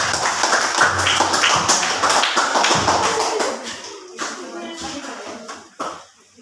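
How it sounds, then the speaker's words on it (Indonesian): A classroom group applauds, steady close clapping from many hands that thins out over several seconds while a voice speaks. "Tepuk tangan untuk kelompok"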